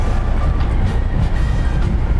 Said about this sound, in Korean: 꼭터널을 통과한 열차는 진행 방향 왼쪽으로 광양 제철선과 합류하여 광양역에 도착합니다